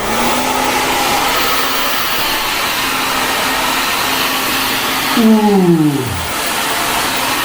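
A hair dryer fitted with a diffuser blows in a steady, even whir, then its pitch drops away sharply as it winds down near the end; one short exclamation is heard.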